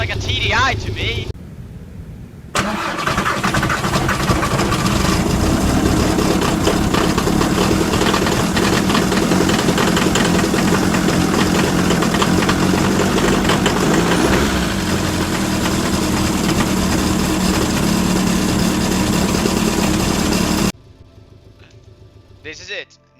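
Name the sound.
Porsche car engine idling, Driving Empire video game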